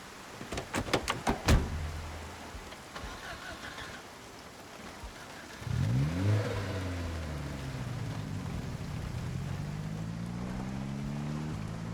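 Getting into a car in Project Zomboid: a quick run of sharp clicks and thuds from the door, then an engine churns to life and settles into a rising, droning hum, with rain hissing behind.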